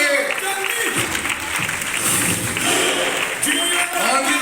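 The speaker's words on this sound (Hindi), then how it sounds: "बार जोरदार तालियां सभी के लिए।" Loud, steady applause from a gathered audience fills the whole stretch, with a voice speaking over the clapping.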